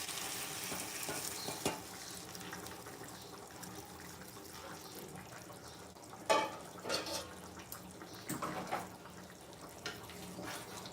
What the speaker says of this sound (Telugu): ఇక్కడ హాట్ వాటర్ వేస్తున్నానండి.